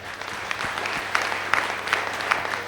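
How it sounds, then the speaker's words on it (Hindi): An audience at an award ceremony speech applauds steadily, with dense, even clapping that holds throughout and a few sharper claps standing out near the front. "मैं चाहता हूं सर के लिए भी जोरदार तालियां।"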